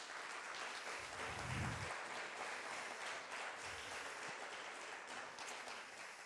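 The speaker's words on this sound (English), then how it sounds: "Could we have a round of applause for those people?" A conference audience applauds steadily, a soft, somewhat distant patter of many hands running throughout with a couple of low rumbling thumps underneath.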